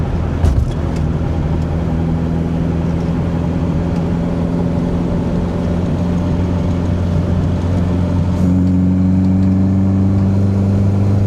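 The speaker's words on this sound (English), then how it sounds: "We all love intake noise." A car engine fitted with SU carburettors drones steadily from inside the car as it climbs a hill, a loud, even engine and intake hum with a slight rise in pitch near the end, no voices.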